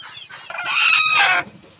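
A brooding hen clucks and squawks nearby in a rising, agitated burst lasting about a second, followed by quieter rustling.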